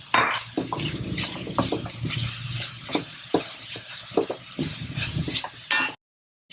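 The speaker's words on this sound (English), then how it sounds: "Saute it in the ghee for about 5 minutes till the raw smell goes away." Grated carrots sautéing in ghee in a pan, just after roasted cashews are taken out, with a steady close sizzle and repeated scrapes and clinks of a stirring spoon. The sound stops abruptly near the end.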